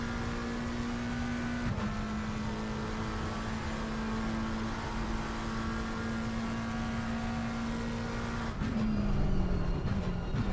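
Race car engines in a wet endurance race at Imola, with McLaren and Mustang cars in a racing game: a steady, loud, droning engine note holding pitch, then a sharp downshift and a falling, wavering tone near the end.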